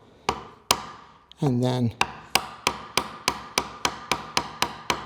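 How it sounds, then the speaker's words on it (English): A mallet strikes a chisel chopping dovetail waste in wood, making sharp, evenly spaced close knocks, about a dozen in steady rhythm, after a brief spoken pause. "start vertically and then angle the chisel right after the first cut"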